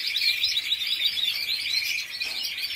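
Caged birds chirp and tweet in a continuous, busy chorus of high, bright calls, fairly close and steady throughout, with no voices over them.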